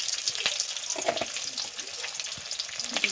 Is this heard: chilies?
yes